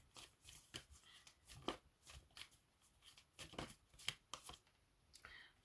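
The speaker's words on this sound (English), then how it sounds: "Let's get one more oracle card." Oracle cards being shuffled, with soft papery riffles and flicks repeating in an uneven rhythm, quiet and close with no voices.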